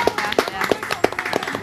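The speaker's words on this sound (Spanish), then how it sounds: "Un aplauso para ellos." A studio audience on a TV cooking show about paella claps to welcome two guests. The short burst of clapping is brisk and uneven, with some voices faintly mixed in.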